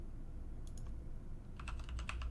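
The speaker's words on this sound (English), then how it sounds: "Okay, Lily, get away from my keyboard." Several quick, light keystrokes on a computer keyboard, with a short burst, a pause, then a denser run of taps, close by and fairly quiet.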